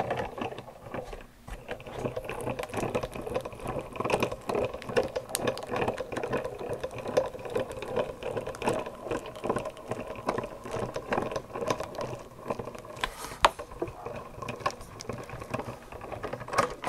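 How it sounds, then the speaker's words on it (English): A die-cutting and embossing machine is cranked steadily as metal sheet with an embossing plate and silicone mat passes through, giving a continuous close clicking, ratcheting mechanical rattle that holds an even level throughout. "you use your embossing plate. And again, we will run that through."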